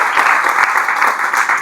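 Church congregation at an evangelical service applauding together, a dense, steady wash of clapping that holds loud and even throughout without speech.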